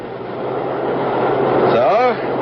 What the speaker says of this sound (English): The new subway.